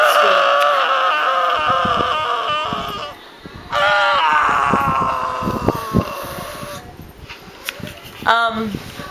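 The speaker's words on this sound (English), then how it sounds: "Nice scream you go up there." A person screaming on request, several loud drawn-out high cries broken by short pauses, with voices talking close by.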